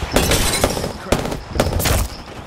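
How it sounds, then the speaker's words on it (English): Bursts of gunfire from the game Apex Legends, two loud clusters of rapid shots separated by a short gap, close and sharp. "Shot fired."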